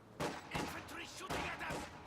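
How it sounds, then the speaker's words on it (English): Infantry gunfire rattles in a war strategy game, several sharp shots and short bursts close together, fairly faint, with a voice talking over them. "Infantry shooting at us."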